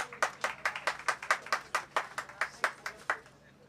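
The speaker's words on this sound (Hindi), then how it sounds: "आपकी बहुत सी तालियों में" Audience applause at an annual award night and mushaira, greeting poet Younus Ejaz: a steady run of distinct hand claps, roughly three or four per second, moderately close and fairly quiet, with no voices over it.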